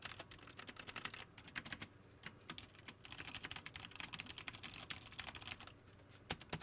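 Keys on a mechanical keyboard with unlubed stabilizers clack in a quick, irregular stream of taps. The sound is faint and close, with no talk.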